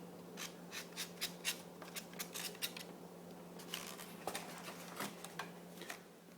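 Foam cut away with a blade or scissors, a run of quick snipping and scraping strokes in bursts with short pauses, close and quiet, no voices.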